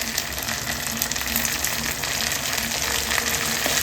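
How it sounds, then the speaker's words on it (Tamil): Sundakkai sautés with rock salt in a hot pan, a dense, steady sizzle and crackle close up, with no talking. "கல்லுப்பு போட்டு வதக்கி விட்டுட்டு"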